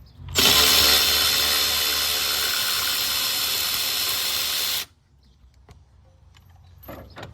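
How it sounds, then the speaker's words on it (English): Impact or power tool spinning off the brake master cylinder mounting bolts on a 1995 Ford F150, one loud continuous whirring burst of about four seconds, then quiet with faint clicks and handling noise. "we're gonna remove these mounting bolts"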